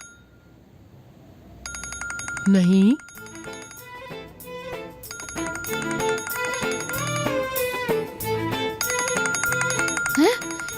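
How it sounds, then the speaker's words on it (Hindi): A mobile phone's ringtone plays a repeating electronic tune in a room, continuing steadily under a woman's brief spoken words and other voices. "फोन बज रहा है।"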